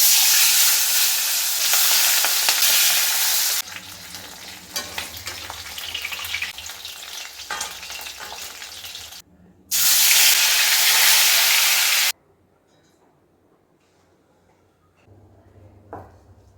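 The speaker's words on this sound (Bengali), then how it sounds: "অনেক কষ্টে কিন্তু মাছটা ভাজলাম।" Pabda fish frying in a pan at home, loud steady sizzling in bursts broken by quieter stretches of stirring and spatula clatter, then near silence with a faint scrape near the end.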